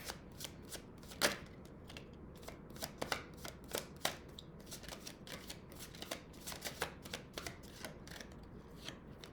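Tarot cards being shuffled alone in a quiet room, a steady run of crisp riffling bursts and soft slaps that come close and clear with no voices.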